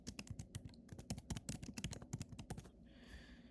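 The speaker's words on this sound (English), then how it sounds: "I can type this out for you guys." Rapid, irregular keystrokes on a computer keyboard, close and clear, clicking in quick bursts for several seconds before settling into a softer hiss at the end.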